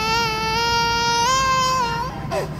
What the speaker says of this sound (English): Here's the crying baby.